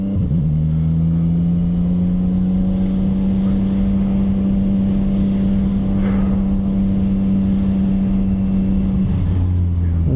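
Sport bike engine humming at steady speed while riding, heard close from a helmet-mounted mic, a sustained low drone with wind noise throughout and a slight dip near the end.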